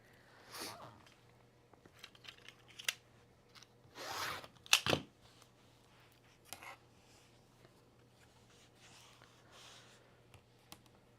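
Scissors or a rotary cutter slice through quilting fabric for a block, giving a few short, quiet crunching and snipping strokes with soft handling noises between them in a hushed room.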